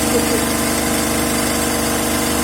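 A DC compound motor runs steadily at 1500 RPM, driving a three-phase alternator in an electrical machines lab, giving a loud continuous hum with constant tonal layers and no pauses.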